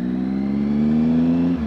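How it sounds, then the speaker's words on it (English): A Triumph Speed Triple motorcycle's exhaust drones steadily while riding, a loud, close, low engine note holding at a constant pitch before dipping briefly near the end. "I fucking love the noise of this bike. I love the exhaust"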